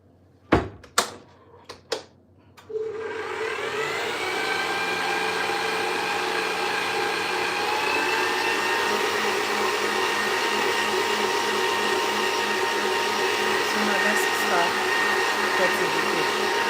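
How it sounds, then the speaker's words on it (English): An electric mixer whisks Swiss meringue buttercream, starting after a few sharp knocks and then running as a steady, loud motor whir that holds at an even speed. "So we are still gonna whisk this till we have the consistency we are looking for."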